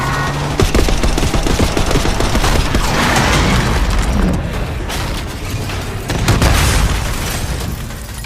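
Heavy gunfire in Call of Duty Black Ops 6, loud sustained bursts of automatic fire mixed with booming blasts, rising and falling over several seconds with no clear talk.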